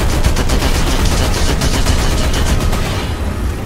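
Tank machine gun fire in War Thunder, a loud, rapid, steady burst of rattling shots running almost the full few seconds before tapering off, with no talk over it.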